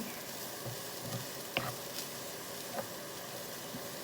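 Cauliflower rice frying over medium heat in a pan: a soft, steady sizzle with occasional light clicks of a utensil stirring, fairly quiet and close, no talking.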